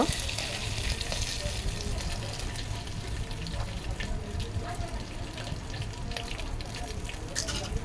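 Curry leaves and asafoetida hit hot oil for Marathi mango kadhi, giving a dense, loud, continuous hiss and sizzle throughout, with faint stirring noises inside it.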